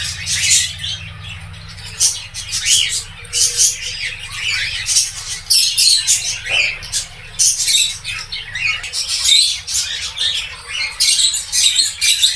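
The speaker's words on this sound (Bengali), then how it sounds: "এই ছেলে ঘুঘুটাকে আমি এখন আমার কলোনিতে ছেড়ে দেব।" Male doves being let loose into a pigeon-style bird colony, with a dense, continuous chorus of squawks, chirps and calls from many birds close by, steady throughout over a low background hum.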